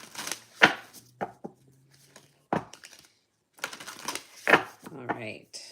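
Tarot cards being shuffled by hand in a quiet room, several short crisp riffling bursts separated by pauses, close and fairly soft, with a voice speaking between them.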